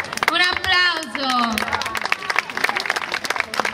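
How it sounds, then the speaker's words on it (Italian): Audience applause at a Savona event, a brief burst of clapping that starts after a voice and continues as a scattered patter for a few seconds. "Un applauso."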